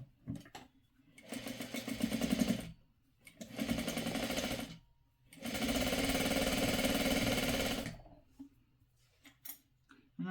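A sewing machine stitches quilt fabric in three long runs, a steady close motor whir and needle chatter with short quiet pauses between bursts.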